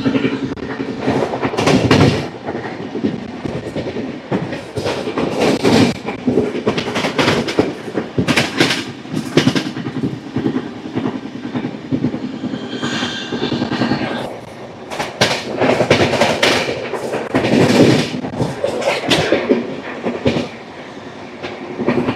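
Satavahana Superfast Express (12713) running through Khanapur station without stopping, a loud sustained rumble with repeated clickety-clack bursts from the wheels passing close by, continuous for the whole stretch.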